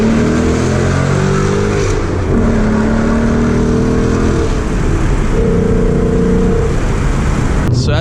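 A loud 2019 Ford Mustang GT engine revs and accelerates hard, its pitch climbing in waves as it pulls through the gears, with steady road roar underneath.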